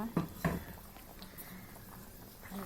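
A utensil clinks twice against a pot as lentil fritters are stirred into simmering curry, followed by faint soft movement and a quiet background.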